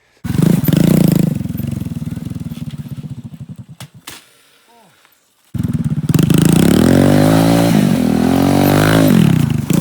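A motorcycle engine revs loudly on a test ride in a jungle, sputters down to near silence, then roars back up and keeps revving close by.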